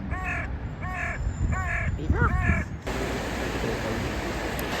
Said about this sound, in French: Non, je crois que c'est un goéland.